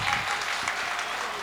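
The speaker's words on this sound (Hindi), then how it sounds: "एक मर्तबा पूरा मजमा बहार साहब के लिए, सईद साहब के लिए, शहाबुद्दीन साहब के लिए तालियां बजा दे।" Brief burst of steady crowd applause from a mushaira audience in Jalalabad on Bijnor Road, loud and continuous with some voices blended underneath.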